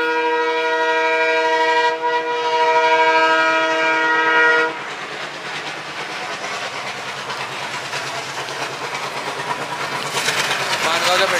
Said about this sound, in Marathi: ट्रेन पास होत आहे.